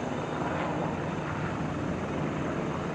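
Military helicopters flying in a Mali combat zone, a steady, loud rotor and turbine roar filling the whole stretch without pause or voices.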